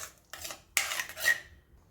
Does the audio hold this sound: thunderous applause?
no